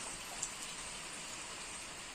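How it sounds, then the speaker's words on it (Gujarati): Light village drizzle falls steadily on a farm in Gujarat, a faint, even hiss of fine raindrops with no talk and hardly any variation, one small tick standing out briefly. "ઝરમર ઝરમર સવારનો ચાલુ છે"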